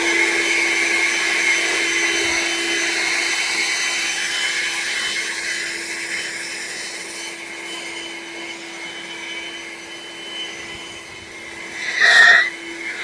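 Seesii 40V cordless leaf blower running in turbo mode on a front porch, a steady loud whirring roar with a constant tonal hum, holding for the whole stretch with a brief surge near the end, no talking.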